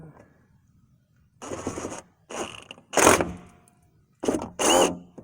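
Drilling a hole to mount rock lights on a vehicle, heard as five separate bursts of whirring and grinding with short pauses between them, close and fairly loud.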